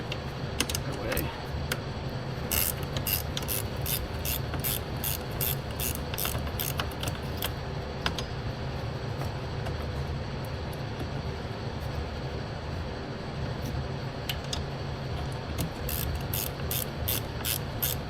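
A ratchet clicks in repeated quick bursts while loosening a bolt on the 1.6 turbo engine of a Nissan Juke, the sharp pawl ticks close by over a steady low mechanical background with no talk.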